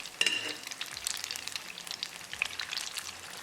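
Fish pakora deep frying in hot oil, a dense crackle of small popping bubbles with scattered brighter spits, steady and close-up with no voices.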